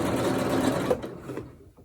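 A sewing machine stitches a line on a sundress in one continuous close, steady whir that stops near the end, with no talking.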